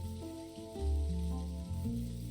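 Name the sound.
rain in the video game Dinkum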